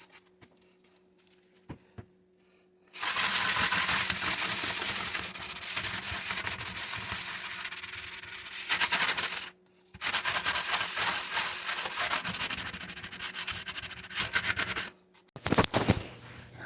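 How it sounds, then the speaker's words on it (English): A Scrub Mommy sponge scrubbing stuck honey off a kitchen countertop makes a loud, rough, sanding-like rasp in two long continuous stretches, then a short final burst, heard close up without talking. "when I was scrubbing it, it sure sounded like I was sanding my countertop"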